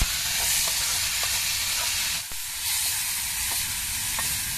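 Chillies and tomatoes sizzle steadily in a pan as an egg and prawn gravy cooks, with a constant close hiss and a few faint scrapes, no voices.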